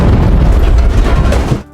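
A grenade explodes in a loud, close, rumbling boom that fills the first second and a half, then cuts off abruptly into quiet.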